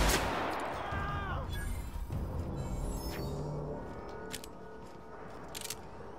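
A charge-up gun fires in the video game The Outer Worlds, sharp gunshot bursts cracking out over faint game ambience, several shots spaced across the span.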